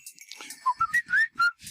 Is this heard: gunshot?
no